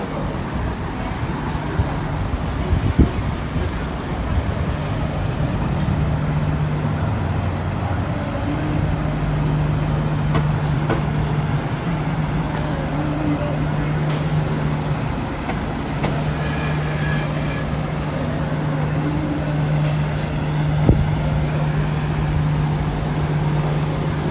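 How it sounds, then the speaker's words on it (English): A sightseeing bus idles and moves through busy downtown Toronto traffic, giving a steady low engine drone and road noise with occasional faint passing vehicles and brief knocks, fairly loud and unbroken. "There's a sightseeing bus."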